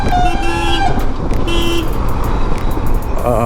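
Loud, steady road rumble of heavy traffic on the Mumbai-Goa highway at Mangaon, with a truck roaring past close by and brief horn toots in between.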